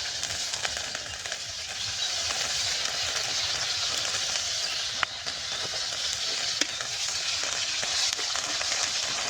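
Onion and chili sizzling in oil in a pan, a steady bright hiss of frying with occasional pops and stirring scrapes, close and continuous with no talk.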